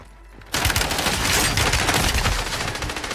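Gunfire from a JAK Devastator shotgun in the Warzone video game: a loud, dense burst of shots that begins half a second in and keeps going with no talk over it.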